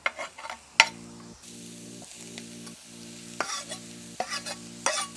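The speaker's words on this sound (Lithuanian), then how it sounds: "girdžiu jau čia po biškį čiršką, tai galime susidėti viską į keptuvę" Potatoes frying in a pan give a steady low sizzle, with sharp scraping and stirring clatters from a utensil against the pan breaking in at intervals.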